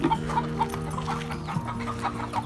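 Hens kept in Saudi Arabia cluck continuously up close, overlapping low, throaty calls repeating in an uneven rhythm with no talking.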